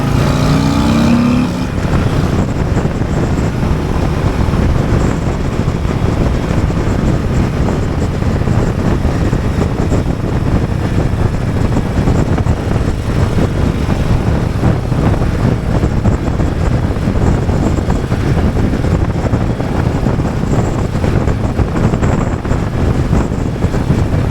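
A 2024 Harley-Davidson Road Glide CVO ST motorcycle rides into a corner, its engine droning steadily beneath heavy, continuous wind rush from riding at speed, loud and close throughout.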